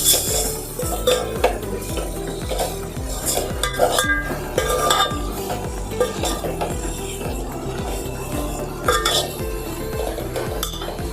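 Prawns stirred into onion masala in a pan, with a spoon scraping and clinking against the metal in a steady repeated rhythm, close and fairly loud over a light sizzle.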